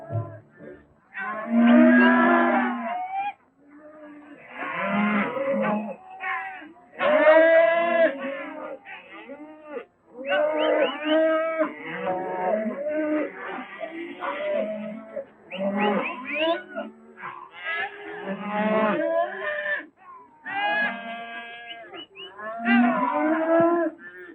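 Cattle low and moo repeatedly in a Western cattle drive, a steady run of loud, drawn-out bovine calls filling the scene with only brief pauses.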